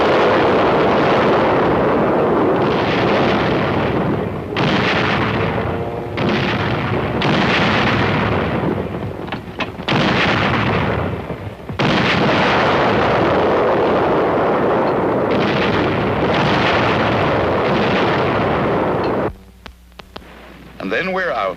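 Battleship naval guns firing in Korean War footage, a run of heavy booming blasts at irregular intervals, loud and rumbling, with a narrating voice partly over them.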